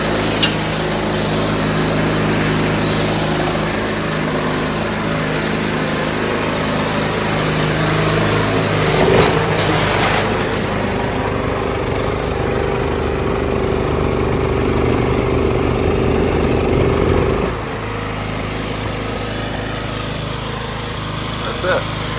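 A Troy-Bilt Storm 2890 snowblower engine runs loudly and steadily close by. A voice speaks over it partway through, and the engine note shifts slightly about midway.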